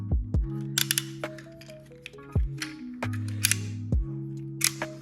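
Plastic ratcheting joints on a Transformers Constructicon figure click sharply as the knee and leg are bent, a run of crisp close-up clicks and snaps with short pauses between them.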